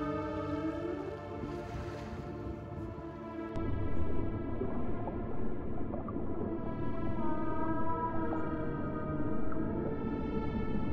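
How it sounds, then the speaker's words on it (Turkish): Killer whales calling in cold Antarctic waters, a steady stack of sustained tonal whistles and harmonic calls running throughout, with a low rumbling background, close and fairly loud with no talk. "Katil orkalar, Antarktika'nın soğuk sularında yaşayan en büyük yırtıcı memelilerden biridir."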